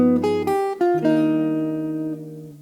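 A bebop line from the solo, with the notes after the flat 2 displaced up an octave, plays as a short run of sustained, clear tones on a synthetic-sounding instrument, loud and close, fading out at the end without any voice.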